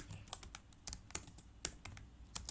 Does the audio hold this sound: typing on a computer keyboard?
yes